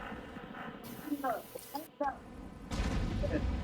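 Video game gunfire in a squad shooter match, with bursts of shots and a couple of heavier blasts coming through amid a player's voice chat, moderately loud, with short gaps of near silence between.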